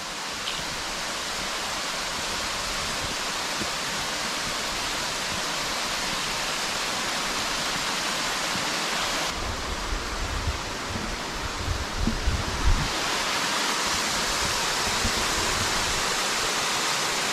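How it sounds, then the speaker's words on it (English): Steady, broadband rush of water falling over a dam about 40-50 feet, continuous and fairly loud, with a slight shift in texture partway through; no voices. "See how far that water goes down in there."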